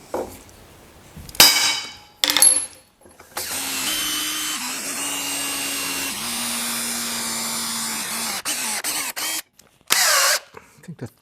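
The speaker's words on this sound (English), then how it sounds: "The chuck on my battery drill is wearing out" A battery drill with a worn chuck bores holes into a center-punched pipe in a workshop while building a 1939 Hudson rat rod, giving a close, steady motor whine for about four seconds, with short bursts of handling noise before and after.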